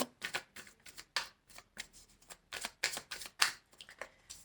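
Tarot cards are shuffled close up in quick irregular riffles and flicks, a crisp papery patter of many short bursts with brief gaps and no speech.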